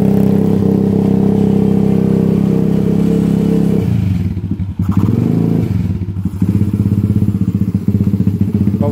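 A YCF 125 pit bike engine runs with no exhaust baffle, first holding a loud steady drone, then dropping to a rough, thumping idle with throttle blips, close and harsh.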